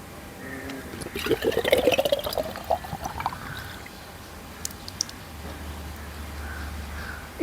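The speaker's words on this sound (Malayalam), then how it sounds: "അപ്പോൾ ഇതിനെ ഞാൻ ഈ ഗ്ലാസ്സിലോട്ട് ഒഴിക്കുകയാണ്" Coconut water is poured from a coconut into a 300 ml glass, a close gurgling splash that rises in pitch as the glass fills, then fades to quiet background.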